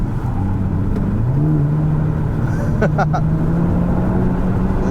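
A 2022 Hyundai Elantra N sport compact sedan's engine rises steadily in pitch under acceleration, heard loud from inside the cabin with a brief crisp shift partway through.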